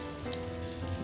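Chicken pieces frying in hot oil for Arabic mandi, a dense continuous sizzle and crackle held steady at close range, with no voices.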